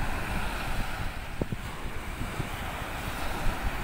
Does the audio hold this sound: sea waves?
yes